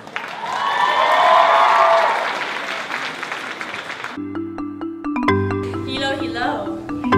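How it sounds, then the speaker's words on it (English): Applause and cheering from an audience at a Korean culture show rise and fade over about four seconds, then give way to music with clear tonal notes and a voice. "let's welcome the beautiful ladies with a warm round of applause"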